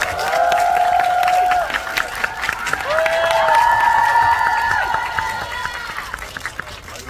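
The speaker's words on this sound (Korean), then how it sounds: "김용화 감독님, 도은수 배우님 큰 박수 부탁드리겠습니다" An audience at a film Q&A screening of The Moon applauds and cheers for director Kim Yong-hwa and actor Doh Kyung-soo: sustained crowd clapping with high, excited shrieks and cheers rising over it, fading toward the end.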